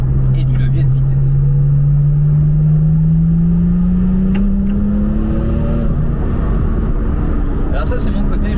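A Porsche 996 RTS3 on the road revs hard in gear, its engine tone climbing steadily at about 3,000–4,000 rpm with traction control cutting in, loud and close from inside the cabin, with a voice heard over it.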